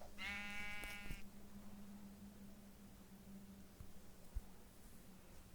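A single wavering sheep bleat at the start, clear and close, in Minecraft, followed by quiet background hum and a faint click.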